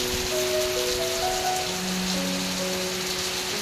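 Heavy daytime rain pours onto a rural house in Phayao in strong wind, making a dense, steady hiss throughout. A faint tonal hum sits underneath and no one speaks.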